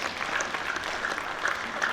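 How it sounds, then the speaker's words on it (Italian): Applause from an audience at an Italian cycling-themed talk event, a steady wash of many hands clapping at moderate volume for about two seconds, with no talk over it. "Applauso a Nicolò."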